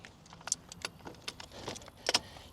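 Soft metallic jingling in a few brief clusters of keys for a Lectric XP4 e-bike being handled, fairly quiet against a low background hum.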